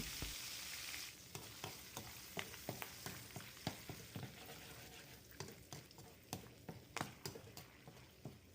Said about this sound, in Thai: ใบมะกรูดนี่ก็ทอดให้กรอบดีเลย